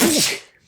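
A single sharp sneeze, loud and close, bursting out and then fading quickly into quiet.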